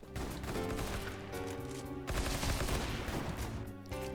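Rapid gunfire from the WAP weapon in the Roblox game Bloxstrike bursts loudly and continuously, layered with dense game effects and music and no voices.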